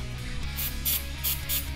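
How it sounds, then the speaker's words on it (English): Throttle body and carb cleaner hisses from an aerosol can onto a Dellorto PHBH28 carburettor from an Aprilia RS 125, in three or four short, close bursts over a low background hum. "So now I'm using a throttle body and carb cleaner. We'll start the cleaning all over. I'll just spray that."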